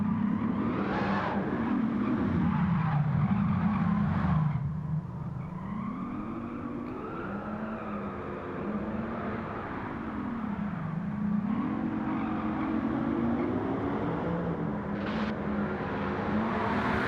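Jaguar XJ13 1966 race car in Gran Turismo 7, its engine droning steadily as pitch rises and falls through gear changes and corners, loud and continuous with no talk over it.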